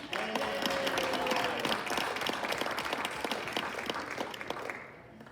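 A school district planning-session audience claps for students and the Teacher of the Month, producing a loud, crackling burst of applause that tapers off and stops near the end.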